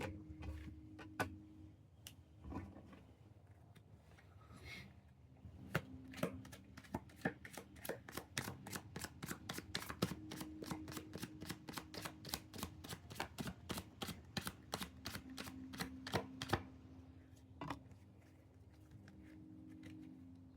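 Pokemon cards are shuffled and flicked, making a quiet run of rapid crisp ticks and snaps that speeds into a steady patter, close by and faint.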